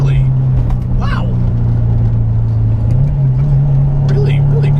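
A 500+ horsepower Subaru Forester engine drones loudly and steadily from inside the car, its pitch climbing a little as it accelerates, while people talk over it.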